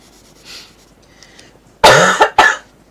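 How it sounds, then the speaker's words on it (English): A single person coughs, a sharp harsh burst followed quickly by a second shorter cough, close and loud against near silence. "Oh, where's the cough come from again?"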